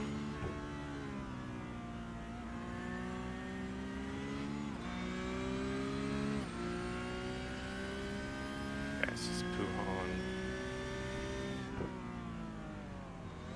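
Porsche 911 Cup race car engine lapping Spa, heard from inside the cockpit: a loud, steady in-car drone with rising pitch through each gear and sharp drops at shifts, continuing steadily over several gear changes.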